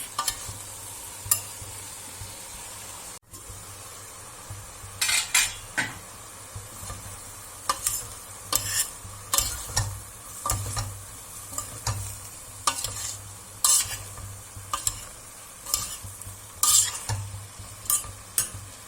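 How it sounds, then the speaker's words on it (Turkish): Dried beans sizzle in a pan as they are sautéed, with repeated scraping and stirring strokes, close and steady, no talking. "Fasulyeyi birkaç dakika kavuruyoruz."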